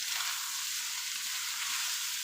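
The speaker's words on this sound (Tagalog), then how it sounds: "Haluin lang natin." Food sizzles and fries steadily in a pan while being stirred, a constant bright crackling hiss that stays even and close throughout with no talking.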